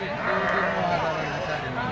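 Several sheep bleat close by at a livestock market, wavering cries overlapping through the short stretch, with people talking over them.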